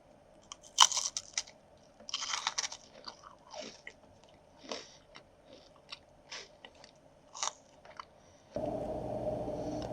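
A pretzel stick is bitten and chewed close to a laptop webcam microphone: a series of crisp crunches and softer chewing clicks spread irregularly over several seconds, followed by a sudden steady hiss near the end.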